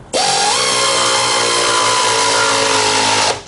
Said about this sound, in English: we got an air ratchet